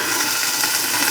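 Water hits a hot pan of dry mushrooms and bursts into a loud, continuous hiss of steam, close up and unbroken throughout.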